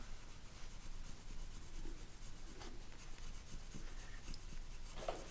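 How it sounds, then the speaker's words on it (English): Crayons rubbing and scratching across paper in steady, close strokes with small bursts of pressure, colouring alone with no voices. "Try not to press on too hard with your crayons, because you'll get lines in the paper."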